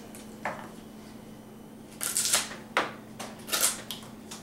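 Knife blade biting through wood to cut off a knot, heard as a handful of short, crisp cutting and snapping bursts, one isolated and then several closer together, fairly quiet and with no talking.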